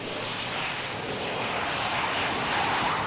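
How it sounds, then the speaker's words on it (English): A Harrier jump jet roars steadily and loudly, a continuous broadband engine rush that swells slightly toward the end with no voices over it. "it came in the form of a remarkable new aircraft called the Harrier"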